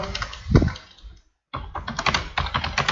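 Typing on a computer keyboard: a close, rapid run of keystrokes, a brief silent pause midway, then steady clicking resumes.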